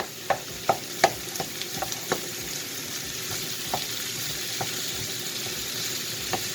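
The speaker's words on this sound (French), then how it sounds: "On écrase bien la viande hachée, toujours comme je vous dis, avec le côté de votre cuillère en bois." Minced beef being mashed with the side of a wooden spoon in a hot pan, a steady frying sizzle broken by a series of sharp taps and scrapes, denser early then sparser, close and without talk.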